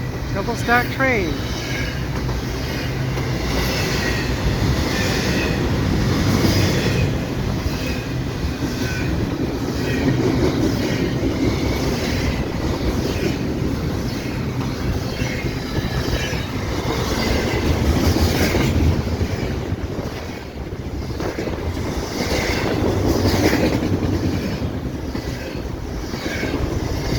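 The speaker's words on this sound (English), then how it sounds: "Double stack train." A long Canadian Pacific double-stack freight train with mid-train locomotives rumbles past at night at Cedar Park Station, with steady rolling noise and faint rhythmic clatter of wheels on rails.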